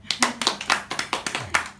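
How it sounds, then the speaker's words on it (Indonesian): Hand claps at a 50th birthday party for an aunt, about a dozen sharp claps in a steady rhythm, close and fairly loud, with faint voices underneath. "Kita tepuk tangan."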